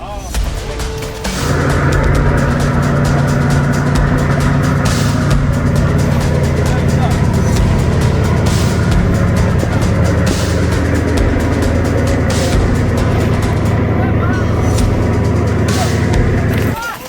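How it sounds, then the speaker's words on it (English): Diesel engines of fishing boats at sea on a cold morning, a deep continuous rumble that starts abruptly and holds loud and steady throughout with heavy low throb. "The deep rumbling of diesel engines sounded like the heartbeat of courageous warriors."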